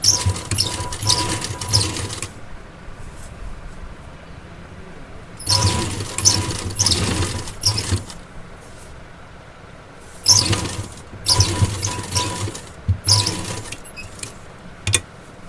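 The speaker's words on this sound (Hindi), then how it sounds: "इस तरीके से गले को आपको सेट करते हुए सिलाई लगाते जाना है।" A sewing machine stitches a readymade blouse neck in three steady runs of close mechanical whirring and rattling, separated by quiet pauses while the fabric is adjusted.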